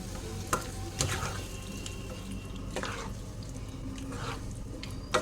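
Masala with ground cashew paste sizzles and fries in a pan, with a spoon stirring and scraping now and then over a steady close crackle.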